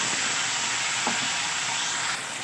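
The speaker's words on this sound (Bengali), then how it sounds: "তো মশলাটা আমি খুব ভালো করে কষে নেব" Spice paste frying in hot oil for a spinach curry, heard as a loud, dense, continuous sizzle close up that eases slightly near the end, with no talking.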